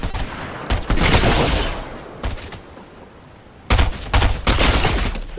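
Loud bursts of gunfire in a Fortnite match come in three broad clusters with short gaps between them, over steady background game noise.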